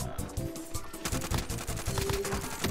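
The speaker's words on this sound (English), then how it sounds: "I got sniped all the way from across" Gunfire crackles through a shooter video game match, a dense run of sharp shots and bursts over busy game noise, with a long-range sniper rifle shot somewhere in the mix.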